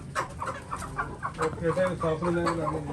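A hen with a broken toe clucks in quick, repeated bursts close by, with some soft murmuring in the background.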